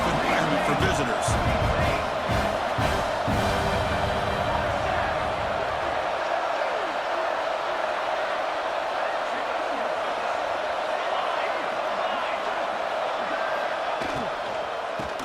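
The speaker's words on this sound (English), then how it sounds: "Listen to the crowd energy here in the early going." A crowd roars at a football game, loud and continuous with sharp thumps and claps early on, then settling into a steady, broad murmur that fills the whole stretch.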